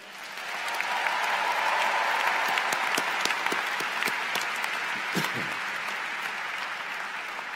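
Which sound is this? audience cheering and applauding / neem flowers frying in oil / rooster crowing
audience cheering and applauding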